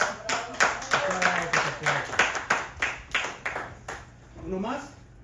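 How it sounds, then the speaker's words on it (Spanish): Classroom clapping in a rhythmic unison pattern, a dozen or so strong synchronized claps at a steady beat that slows and fades, with voices calling out over them and talking at the end. "Aplausos."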